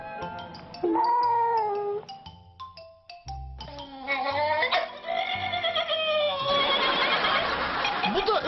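A cat meows loudly and repeatedly, drawn-out wavering cries close to the microphone, with no talking.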